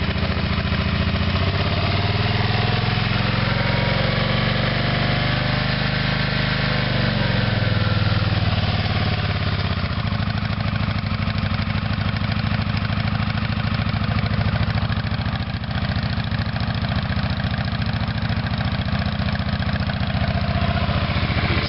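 A 1986 Kawasaki VN750 motorcycle engine idling steadily, loud and close, its low rumble briefly rising then settling into an even, continuous putter.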